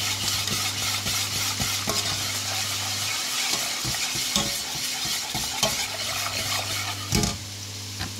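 A cheese béchamel, made with cheese, salt and pepper, is stirred in a pan with repeated scraping strokes over a bubbling sizzle and a low steady hum. The stirring runs continuously and close.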